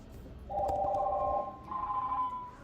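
A telephone rings twice with a warbling electronic tone, each burst lasting about a second with a short gap between, moderately loud over a quiet room background.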